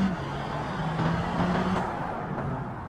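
A Volvo XC90 in BeamNG.Drive pulls away in a 0-100 acceleration run, its engine giving a steady droning roar with slight rising pitch for about three seconds before cutting off abruptly.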